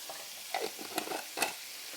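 Brown sugar or maple syrup is stirred into a hot pan. A faint sizzle runs under a few quick scraping, clattering strokes of a spoon, about four distinct bursts in two seconds, with no talking.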